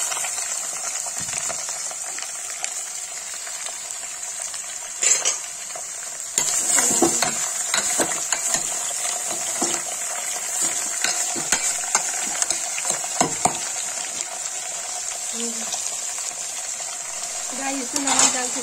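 Potatoes and fenugreek leaves fry in a pan for a Kashmiri dish, giving a soft, steady sizzle broken by occasional scraping stirs and clinks of a spoon.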